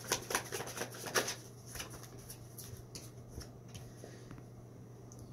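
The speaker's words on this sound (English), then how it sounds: "I'm gonna shuffle again" Tarot cards being shuffled in a quick riffle of papery flutters near the start, then softer handling and faint rustles over a steady low hum.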